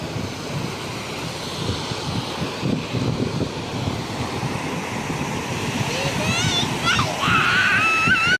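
Surf rolls onto Sasawane beach in a continuous, moderate wash with wind noise, and voices talk over it before the sound cuts off abruptly.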